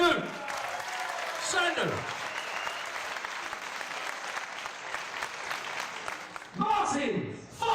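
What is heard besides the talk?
audience applause for the referee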